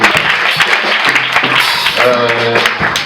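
An audience claps loudly at an Easter gathering of an NGO for orphans, with dense, steady applause filling the whole stretch and voices mixed in.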